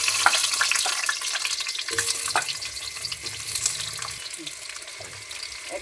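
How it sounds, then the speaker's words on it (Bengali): Potatoes fry in hot oil in a wok on a home stove, a soft crackling sizzle with scattered pops and light stirring scrapes, fairly close and steady throughout. "এই আলুটা একটু ভেজে নেব।"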